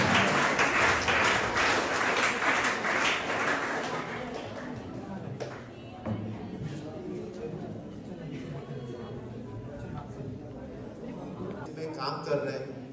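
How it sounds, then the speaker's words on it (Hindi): A crowd at a gathering gives loud applause to welcome a female ACP, with a dense burst of clapping that gradually thins out into scattered claps and background chatter. "तो मैम के लिए एक बार जोरदार तालियां।"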